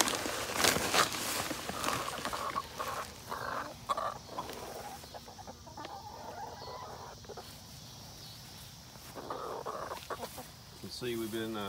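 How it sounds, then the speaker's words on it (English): Chickens cluck and peck near the ground while eating watermelon rinds in a garden, with footsteps and a person talking intermittently. "We put the rinds down here and let the chickens eat the whatever meat's left on those."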